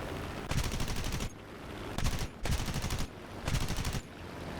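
Aircraft guns on an F4U-4B Corsair in War Thunder fire in four loud sustained bursts of rapid automatic fire, each about half a second to a second long, separated by brief quieter gaps.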